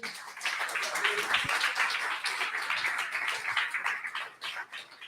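A church congregation applauding during a worship service, a dense, steady wash of many hands clapping that stays loud for the whole stretch and tapers slightly at the end.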